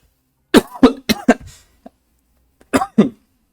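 A run of sharp, harsh coughs close up: a quick burst of four or five, a pause, then two more coughs.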